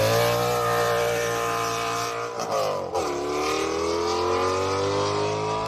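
A 1995 Audi S6 fitted with a swapped V10 engine in place of its original inline five, idling loud and close with a steady low rumble, dipping briefly mid-way before settling back to a strong even idle, at an outdoor car show.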